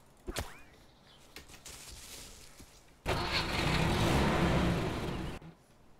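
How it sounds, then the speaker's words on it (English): A car engine in the DayZ mod for ARMA 2 cranks and catches, then holds a loud steady running roar for about two seconds before cutting off, preceded by brief clicks and knocks, with no talk. "I'll try to steal the car"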